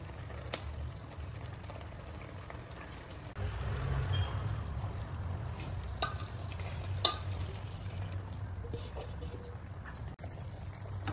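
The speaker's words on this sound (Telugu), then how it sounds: "ఇలా మధ్య మధ్యలో కలుపుతూ ఒక ముక్క ఉడికేంత వరకు మనం దీనిని వేయించుకోవాలి" Murrel fish pieces marinated in coconut, coriander, cumin, curd cream, lemon juice and salt fry in a pan, a low steady sizzle broken by a few sharp scraping stirs and clinks.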